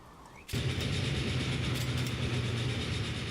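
A train running in the Transport Fever video game starts with a sudden onset and then holds a steady, loud rumble of engine and rolling wagons. No one speaks over it.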